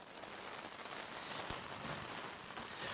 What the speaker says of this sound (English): It's excellent rain.